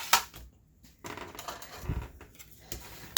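Paper from a craft paper pad cover folded along its score line, a few short dry crinkles and soft rustles close by, with quiet pauses between.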